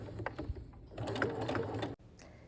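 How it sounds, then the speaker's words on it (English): A sewing machine stitches through flannel and PUL fabric for a cloth menstrual pad, running in short close bursts of rapid needle thumps before stopping abruptly. "I usually do 3 stitches and then lift the presser foot and turn it slightly."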